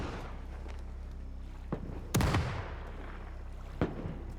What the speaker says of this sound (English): Oh, that cannon.